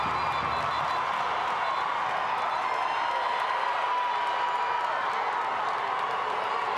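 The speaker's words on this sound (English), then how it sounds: "Crowd loving it." Stadium crowd at an NWSL women's soccer match, Orlando Pride against OL Reign, roaring steadily after a big save by the goalkeeper, a dense distant wash of cheering and applause sustained throughout.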